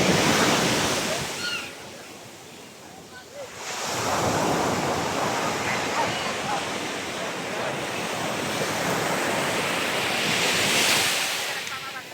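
Powerful ocean waves roar and crash continuously at Canyon Cove with heavy wind noise buffeting the microphone; a brief lull comes before the surf surges back loud.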